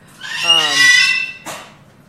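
A sun conure or similar small parrot gives a loud, close harsh squawk lasting about a second, followed by a shorter second screech, with no talking over it.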